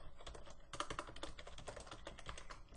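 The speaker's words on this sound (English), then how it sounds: "So I can simply type in this." Steady computer keyboard typing while entering code, with dense, fast clicking keystrokes running throughout at close range and no voices.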